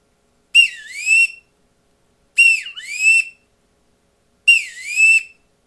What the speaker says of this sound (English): This thing can do a wood duck.